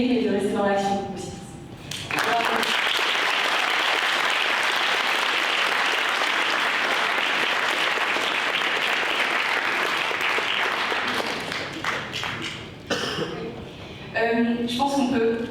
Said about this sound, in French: Je pense qu'on peut applaudir encore très très fort tous les autres finalistes